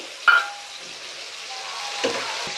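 Food frying in a pan gives a soft, low hiss, with one scrape of stirring at the start and another toward the end, quiet and brief.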